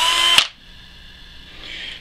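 A power drill spins a tungsten welding electrode chucked in it at high speed, a loud bright whine that cuts off abruptly after half a second, then a faint steady hum that swells slightly near the end.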